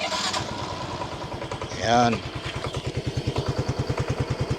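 A Yamaha Mio i125 scooter, its oil two years old, cranks over with a brief whirring start, then settles into a steady, close, rhythmic idle putter, with a voice speaking briefly over it.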